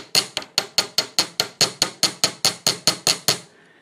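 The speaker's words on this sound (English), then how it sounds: "I'm going to take my chasing hammer and I'm just going to sort of planish out the end" About seventeen sharp metallic chasing hammer strikes planishing the end of heavy gauge wire for a bracelet, in a steady, quick rhythm, close and bright, each ringing briefly before the next blow.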